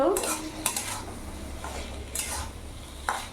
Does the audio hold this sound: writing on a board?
no